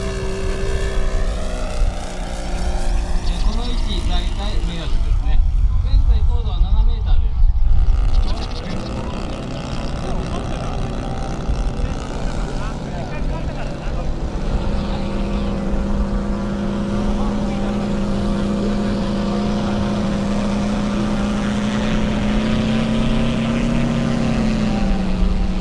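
A radio-controlled scale model airplane makes a low pass over the runway at a model flying field, its propeller engine droning loudly and rising in pitch as it sweeps past, with a voice announcing over a loudspeaker.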